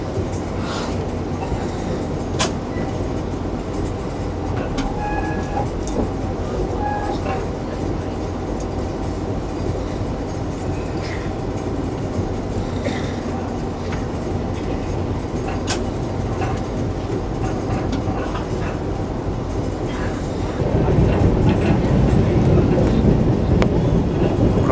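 The Darjeeling Mail passenger train rolls into Dum Dum railway station with a steady, loud rumble of wheels and carriages. The rumble swells into heavier rattling clatter near the end.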